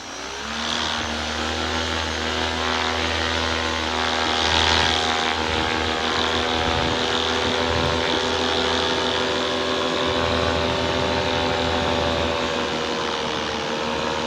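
A paramotor engine roars steadily close by, its propeller drone rising and holding at a high, buzzing pitch as the throttle is rolled on, with no talking.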